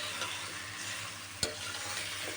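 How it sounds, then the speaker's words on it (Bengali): Chicken pieces being stirred into a pan of fried-down masala for chicken bhuna, a faint steady sizzle with a soft scraping stir and one sharp clink. "ভালো করে ধুয়ে রাখা মুরগির মাংসগুলো এই কষানো মশলাটার মধ্যে দিয়ে ভালো করে নেড়ে এই মাংসগুলোর গায়ে মশলাটাকে মাখিয়ে নেব"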